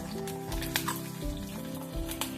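Chillies, mustard seeds and cumin fry in hot oil for a curry, giving a steady close sizzle with occasional crackling pops and faint stirring scrapes, without speech.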